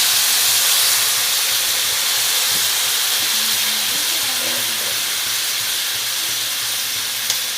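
Chicken frying in a pan with Kashmiri chili powder gives a loud, continuous broad sizzle and hiss that stays steady throughout, close up.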